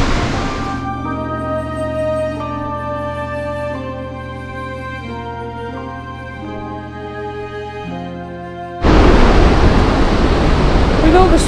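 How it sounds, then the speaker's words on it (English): Gullfoss waterfall in Iceland roars as loud, close, broadband rushing water. It bursts in suddenly after a stretch of music and continues to the end. "With all the spray from the waterfall, it's almost like the water's rising."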